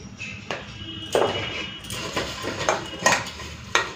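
Eggs being mixed with salt and turmeric powder in a dish, giving a series of sharp clinks and scrapes of utensil against the bowl at irregular intervals, close and moderately loud with no talking.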